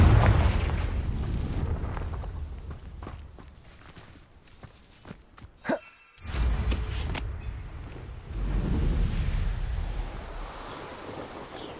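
A Confringo blasting spell in the Hogwarts Legacy video game goes off as a whooshing cast and a loud explosive burst midway through, surrounded by footsteps and rumbling ambience.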